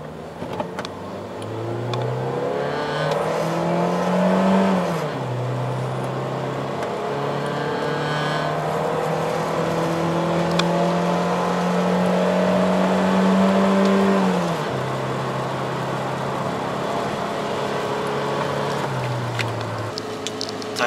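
A 2000s Hyundai Click with a 1.4 gasoline engine and automatic gearbox accelerates hard from a standstill, engine note rising steadily and dropping at each of several gear changes, loud and close with no talk.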